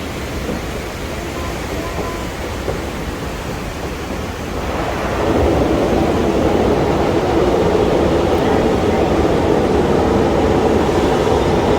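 A Durango and Silverton narrow gauge train crosses Cascade Trestle above rushing rapids, with a steady rumble of rolling cars under the roar of water that grows louder about halfway through and stays constant.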